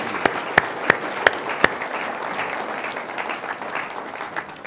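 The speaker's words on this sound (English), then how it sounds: "Let's give all of them a nice round of applause." Applause for candidates at a lesser-known candidates' forum, a few sharp claps near the start followed by a steady, moderate wash of clapping from the audience that continues throughout.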